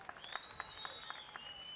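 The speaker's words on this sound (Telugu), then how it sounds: "గట్టిగా చప్పట్లు కొట్టి అభినందించండి" An audience at a public government event led by the Chief Minister in Anantapur claps in faint, distant applause, a scattered patter of hands with some louder claps standing out over a low background murmur.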